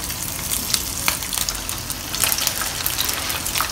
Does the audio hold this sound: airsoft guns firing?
no